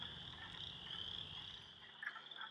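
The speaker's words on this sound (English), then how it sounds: "And the peeping sound are spring peepers." A dense outdoor spring chorus of chorus frogs and spring peepers, a continuous high shrill peeping and trilling wall of calls at moderate distance, steady throughout with no voices.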